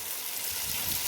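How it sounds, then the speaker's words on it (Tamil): Tamarind water pours into a pot of prawn curry, a brief, steady, soft gushing splash. "இப்போ இந்த கரைச்சி வச்சுருக்கிற புளி தண்ணியை சேர்க்குறேன்."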